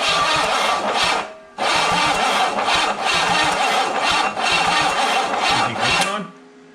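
A Chevy 350 V8 mounted on an engine stand for a 1961 Pontiac cranks loudly and close up in two long rhythmic bursts with a short pause between them, then stops.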